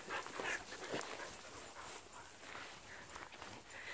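Dog out on a Sunday walk, faint and somewhat distant, with soft panting, light footsteps and a small whimper over a steady outdoor hiss.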